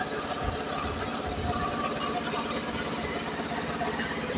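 A concrete block (batako) making machine runs at a block production workshop, giving a steady, loud mechanical rumble with continuous rattling and clatter throughout, and no voices over it.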